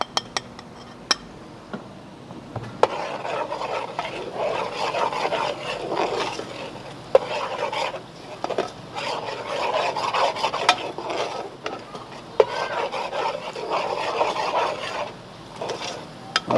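Masala with green chilies being stirred and roasted in a pan, a steady scraping and rasping of the spoon against the metal with soft sizzling, continuous and close, no talk.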